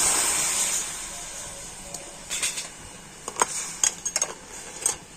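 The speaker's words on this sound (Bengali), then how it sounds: "আর ওই বাটি মাপ করে দিয়ে দেব 1 বাটি জল।" A bowl of water poured into a frying pan holding red batasha jaggery: a brief hissing rush at first, followed by scattered light clinks of a utensil against the pan, close by, with no speech.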